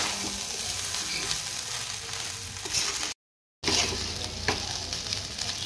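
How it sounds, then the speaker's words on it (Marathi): Boiled rice tossed in Schezwan sauce in a frying pan for chicken fried rice, sizzling loudly and steadily with stirring scrapes throughout and a brief silent gap partway through. "आता यामध्ये आपण राईस बॉईल केलेला आहे तो ऍड करून घेऊ। सॉस मध्ये टॉस करून घ्यायचं आहे आपल्याला"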